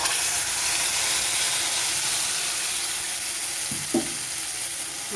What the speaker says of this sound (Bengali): এরপর দিয়ে দেবো বেটে রাখা মশলা।